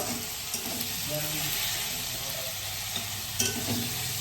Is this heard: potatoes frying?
yes